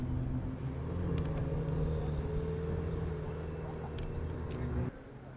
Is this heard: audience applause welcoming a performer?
no